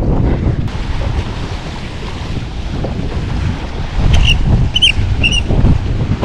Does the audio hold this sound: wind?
yes